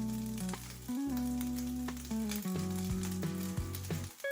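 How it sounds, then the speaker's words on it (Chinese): A chicken breast and cheese patty frying in a little oil in a pan gives off a soft, steady sizzle. Sustained music-like tones play over it throughout, with brief dips in the sound. "用油煎一下，应该和虾滑煎成的虾饼很像"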